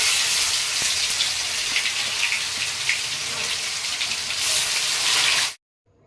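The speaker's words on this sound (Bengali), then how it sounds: "তো বিষ কচুটা এখন ভালোভাবে ভেজে নেব অনেকটাই কিন্তু আমি সর্ষা তেল দিয়ে দিয়েছি" Poisonous taro (bish kochu) frying in plenty of hot mustard oil in a kadai, a loud close crackling sizzle that runs steadily for about five seconds and then cuts off abruptly into silence.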